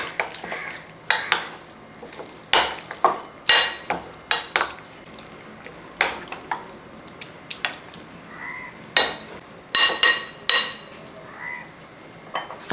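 Marinated chicken is stirred into its coating in a metal pot, giving a series of sharp spoon-on-pot clanks and scrapes in an irregular rhythm, close and clear.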